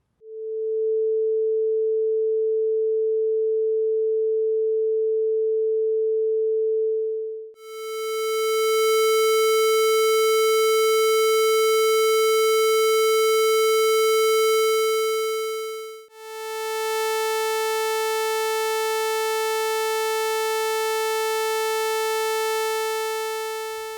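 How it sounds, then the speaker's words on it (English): A synthesizer plays a pure steady sine wave, then shifts to a harsher buzzing square wave, then to a bright, brassy sawtooth buzz, each held for several seconds with no talking. "Let's listen to a sine wave again, then a square wave, then a sawtooth."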